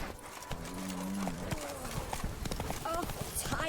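Roach, Geralt's horse in The Witcher 3, galloping with steady rhythmic hoofbeats close by, a brief whinny rising over the hooves, and a voice speaking over the running.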